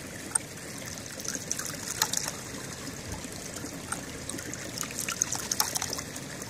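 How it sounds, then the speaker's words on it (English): A water-driven ram pump, primed and running, keeps water trickling and splashing up in a steady, gentle stream with small irregular drips and gurgles, moderately close, with no voices. "So I've primed the pump and it's working now"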